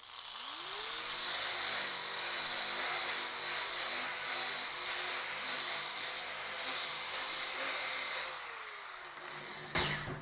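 An abrasive disc on a power tool strips mill scale from steel with a steady, high whirring grind that spins up, holds for about seven seconds and winds down, ending with a sharp knock.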